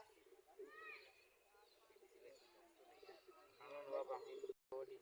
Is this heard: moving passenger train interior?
no